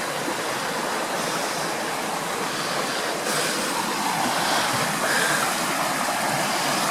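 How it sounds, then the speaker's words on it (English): A stream rushes in a continuous, full broadband wash at a woodland water crossing in Alabama, steady and fairly close, with no voices over it. "Looks like we're going to be doing another damn water crossing."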